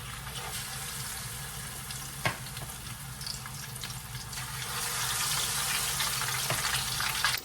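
Steady, dense sizzle of fish frying in hot oil, close up, growing slightly louder toward the end with an occasional clink.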